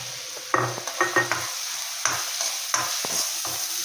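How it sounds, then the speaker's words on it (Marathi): Chili powder, garam masala and turmeric roasting and sizzling in hot oil in a pan while being stirred, with soft spoon scrapes and bursts of frying crackle over a steady sizzle, close and alone. "छान असं सुगंध येईपर्यंत शेकून घ्यावे"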